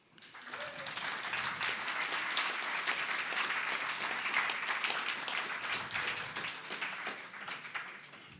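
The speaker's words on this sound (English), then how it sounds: "Ladies and gentlemen, big round of applause for Glynn Mitchell." A big round of audience applause at a presentation event swells quickly and holds as full, dense clapping for several seconds before tapering slightly at the end.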